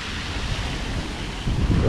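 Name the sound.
water spraying from a fountain feature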